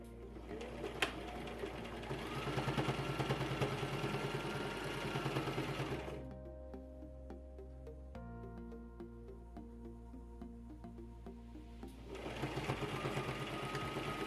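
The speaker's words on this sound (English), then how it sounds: "I'm going to secure the smaller placket by sewing right at the edge of the placket" A domestic sewing machine stitches along the edge of a polo shirt placket in two close, steady whirring bursts of rapid needle rhythm, separated by a quiet pause filled with faint clicks and handling.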